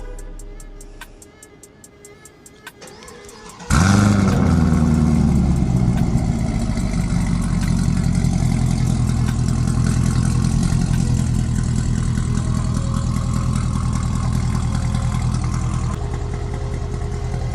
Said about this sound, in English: This is a catless warm start.